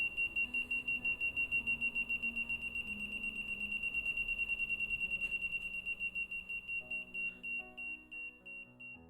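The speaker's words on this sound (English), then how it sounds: "I'm going to turn on the buzzer here." Parking backup sensor buzzer in an engineering lab build, a rapid train of even electronic beeps at a fixed pitch that speed up and then change pattern as an object gets closer, fairly quiet and close.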